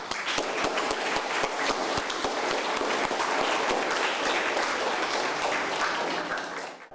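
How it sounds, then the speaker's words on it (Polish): Sustained, dense applause from a crowd at a Red Cross charity campaign wrap-up event, loud and steady for several seconds with a few sharper claps standing out before fading at the end. "Brawa bardzo."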